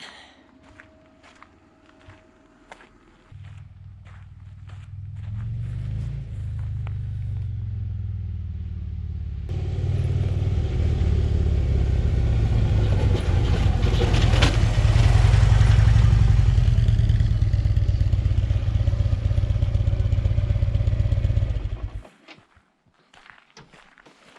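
A motorcycle approaches through a residential area with a rising engine rumble that grows loud and steady, then cuts off abruptly near the end.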